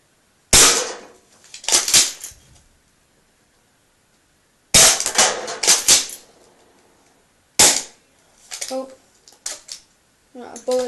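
A Bison BB shotgun fires at cans three times. Each sharp, loud crack is followed by a rattling clatter, with quiet gaps between the shots.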